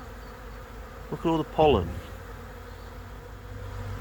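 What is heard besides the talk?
honeybees buzzing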